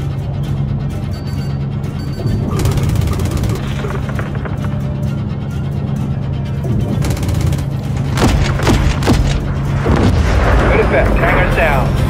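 Heavy artillery strike pounding a hangar in Call of Duty Modern Warfare 3, with loud rolling booms and crashing blasts that build in bursts over a steady low rumble, without voices.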